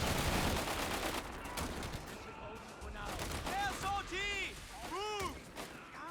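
Strafing gunfire from an aircraft in the World War II strategy game Company of Heroes 3 crackles in dense bursts, mixed with explosions and whistling shells, under ongoing commentary.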